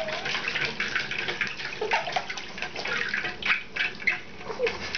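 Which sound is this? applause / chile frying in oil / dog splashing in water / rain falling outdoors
dog splashing in water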